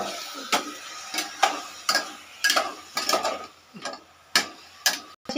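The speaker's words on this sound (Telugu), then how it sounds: "ఇప్పుడు చికెన్ వేయాలి." Chicken goes into a pot for Thotakura chicken biryani with a series of distinct clanks, taps and scrapes of metal and pieces landing, irregular and close, with no talking.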